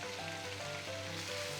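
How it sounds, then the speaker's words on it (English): A vegan stir fry sizzles in a pan, a faint, steady crackling hiss alongside a soft background hum. "And we're just going to let that sizzle."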